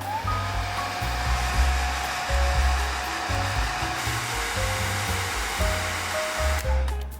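A hair dryer blows steadily on a watercolor pencil painting of the moon and sea, a loud continuous whooshing hum with slight wavering and brief shifts in pitch, running unbroken throughout.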